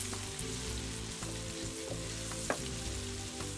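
Green chilies fry in chicken karahi with a dense, steady sizzle and low rumble, a few soft stirring scrapes rising through it, close up and without speech.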